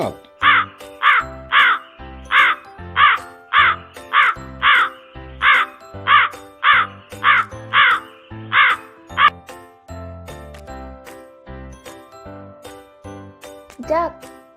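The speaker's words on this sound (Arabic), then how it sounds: "غراب." A crow caws in a steady run of about fifteen loud, harsh calls at a brisk, even pace, followed by a pause with faint sounds and a short voice near the end.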